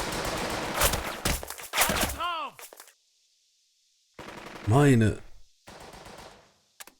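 Bursts of machine gun fire from the WWII strategy video game Burden of Command, heard as clipped rapid volleys separated by silent gaps, with a voice speaking over parts of it.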